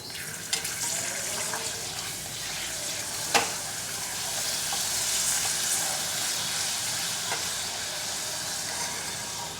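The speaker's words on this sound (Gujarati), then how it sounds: "તો અહીં આપણે તેલમાં એક એક પાપડ તળાવવા માટે મૂકતા જઈશું" Steady hissing sizzle of papad frying in hot oil, continuous and close, with a few sharp clicks and crackles rising above it.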